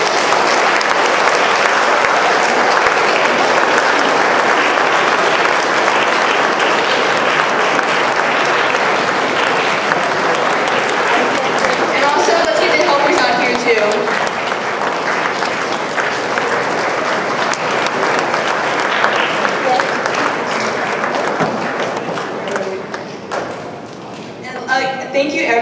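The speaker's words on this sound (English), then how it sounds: "let's just give them a really big round of applause" An audience at a lecture on Asian students' leadership gives sustained loud applause for the speakers, a dense wash of clapping lasting over twenty seconds that thins out near the end, with some voices mixed in.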